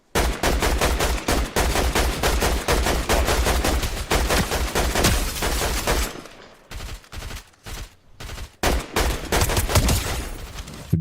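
Rapid, loud bursts of automatic gunfire fill a shooter video game match, sustained and dense at first, then breaking into shorter volleys with brief gaps.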